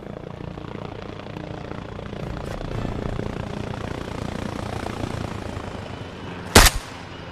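A helicopter in the video game Arma Reforger gives a steady droning rotor rumble throughout, fairly faint and distant, ending with one sharp loud rifle report near the end.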